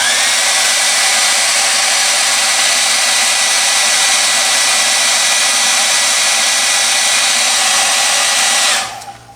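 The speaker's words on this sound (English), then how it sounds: "So you take a hairdryer," A hair dryer blows steadily at close range, heating vinyl, with a loud, even whooshing hum, then switches off abruptly near the end.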